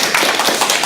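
An audience applauding after a church lecture, a brief burst of dense, close clapping lasting under a second.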